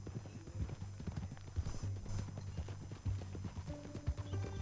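Horse hooves clip-clop in Red Dead Redemption 2 on Xbox One, an uneven walking rhythm of close hoof strikes over a soft game-world background, with a faint tonal sound entering near the end.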